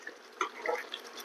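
A little water poured into a capsicum curry in a pan, a soft, brief trickle and splash with a few light bubbling drips, quiet and close.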